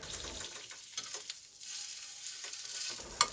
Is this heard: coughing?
no